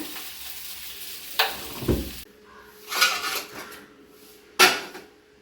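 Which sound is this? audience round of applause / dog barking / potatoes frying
potatoes frying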